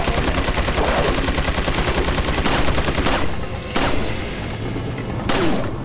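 Ada's pistol firing in Resident Evil 4: Separate Ways, a few sharp shots at irregular intervals over dense, loud game music and ambience.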